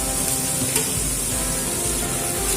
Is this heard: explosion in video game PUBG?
no